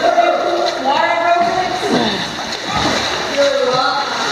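Water splashes and sloshes continuously as people swim in a pool, with voices talking over the churning water throughout.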